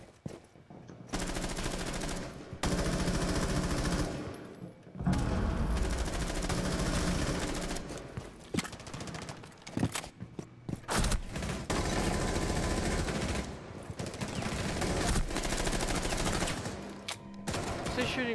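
Automatic weapons rattle nonstop in a team deathmatch shooter match, long loud bursts of rapid fire broken by brief pauses, close and dense throughout, with some talk underneath.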